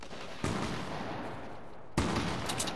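Shotgun fire in the Fortnite Star Wars mode: two heavy broadband blasts about a second and a half apart, each followed by a long rumbling decay, with no talking.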